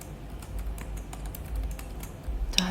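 Rapid, light keystrokes clatter on a computer keyboard as accounting data is entered, a quiet, close, irregular patter with no voice.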